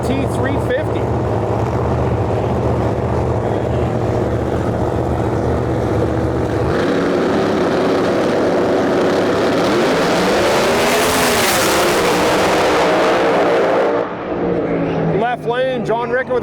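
A drag racing qualifying pass: heavy race cars roar hard down the track, loud and sustained, with a rising and falling pass-by whine. A commentator talks over the engines, and the noise cuts off near the end.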